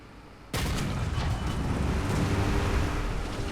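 A War Thunder tank cannon hit from an M36 GMC tank destroyer arrives as a sudden, loud blast that gives way to a sustained, roaring broadband rumble, with no talk over it.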